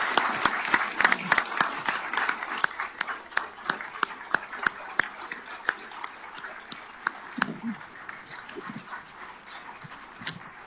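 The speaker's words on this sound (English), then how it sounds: "You may now applause." An audience at a League of Women Voters sheriff candidate forum applauds, with dense, irregular clapping from many hands that is fairly close and lively for about ten seconds, with a few sharp claps standing out.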